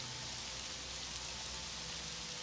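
Steady rain hisses in The Elder Scrolls: Morrowind, a faint, even wash of falling drops with no talk.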